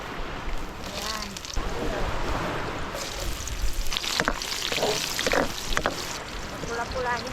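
Chopped ginger and garlic sauté in a pan of oil with a soft, uneven sizzle, and someone talks over the cooking throughout.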